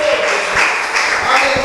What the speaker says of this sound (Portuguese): aplauda Jesus bem forte nessa noite